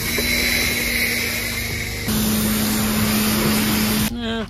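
Touchless ceramic rinse-and-seal spray applied to a car panel: a steady, loud hiss of pressurized spraying running continuously, with a brief shift midway and a cutoff near the end.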